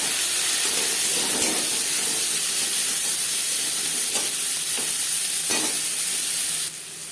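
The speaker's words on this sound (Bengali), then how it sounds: "পাঁচ ফোড়ন তেজপাতা ভেজে নেওয়ার পর দিয়ে দেবো পেঁয়াজ পেঁয়াজ হালকা করে ভেজে নেবো" Onions fry in hot oil with five-spice and bay leaf, giving a loud, constant hissing sizzle close up, with a few occasional spatula scrapes as they are stirred, and no speech.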